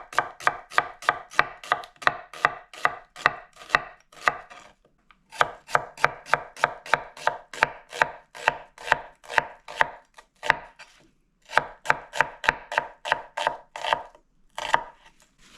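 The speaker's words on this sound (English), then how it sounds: "we got our onions sliced up, ready to rock and roll" A knife slices onions on a cutting board in fast, regular, sharp knocks, loud and close, in several long runs separated by brief pauses, with no talk.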